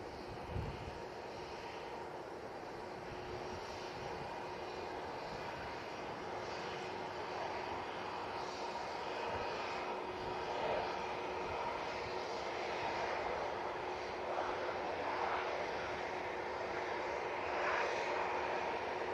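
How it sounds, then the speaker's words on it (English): ATR 72 turboprop airliner arriving from Guernsey at Manchester Airport, a faint, steady engine drone with a constant tone, heard alone at an even distance. "It's the Arini ATR 72 coming in from Guernsey."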